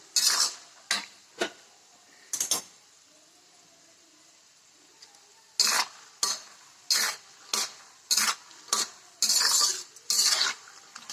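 Jowar puffs roasting in a pan as a spoon stirs them, giving bursts of dry scraping and rustling clatter, a few scattered strokes then a quick regular run of scrapes after a pause.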